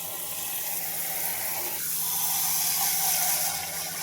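Dosa batter grains being rinsed by hand in water in a home kitchen, a steady running, sloshing wash that carries on evenly with no voices.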